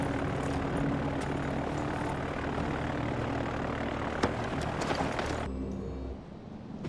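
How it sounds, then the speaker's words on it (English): A propeller airplane taking off in the game Far Cry 4, its engine a steady, loud drone with a clanking thump near the middle before the roar suddenly drops away at the end. "One in the plane that's about to take off"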